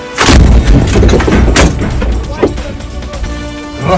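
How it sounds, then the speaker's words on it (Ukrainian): A loud, booming gunshot rings out near the start, followed by a lingering rumble and a few smaller thumps as it fades. "Яна, постріл за шебелинку."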